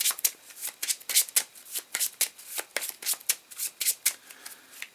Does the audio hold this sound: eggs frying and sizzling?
no